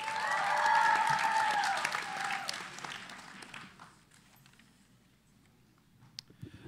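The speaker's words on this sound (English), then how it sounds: "Let's make some noise for your next poet." An audience at a school spoken word poetry event applauds and cheers for a poet, with loud clapping and a whoop that fade away over several seconds, leaving a few scattered claps.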